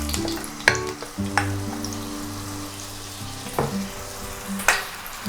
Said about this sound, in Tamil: பட்டரும் எண்ணெயும் நல்லா சூடாயிருச்சு. அப்போ இந்த ஸ்டேஜில் நம்ம என்ன பண்ணலான்னா மேரினேட் பண்ணி வச்சுருந்த சிக்கனை இதில் போட்டுடலாம்.